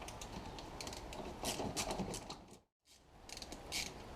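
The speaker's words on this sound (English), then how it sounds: "you take 10mm socket and undo these 3" A 10mm socket ratchet undoes the engine cover nuts on a VW Golf Mk4 1.9 TDI, giving quiet, close clicking in short uneven runs, with a brief full silence near the middle.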